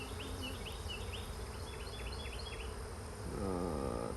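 Honey bees buzz steadily around hives in an apiary, a dense, continuous close drone with individual bees whining past, a deeper buzz rising near the end, and no talking.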